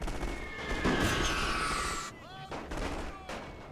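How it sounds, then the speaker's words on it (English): Rapid submachine gun fire crackles in a dense, sustained battle in The Great War, a World War I strategy game, loud and continuous before thinning into scattered shots and a few whistling ricochets. "Submachine gunners definitely winning this fight."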